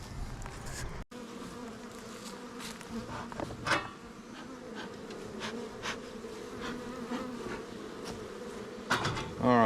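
Steady buzzing of many bees close by, a dense insect drone with occasional faint knocks and clicks.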